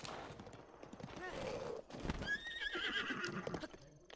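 A horse in the Breath of the Wild video game whinnies loudly while hooves clip-clop steadily beneath it, the neigh rising in pitch midway through amid game sound effects.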